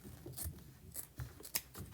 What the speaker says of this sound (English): I'm going to use my scissors to kind of make a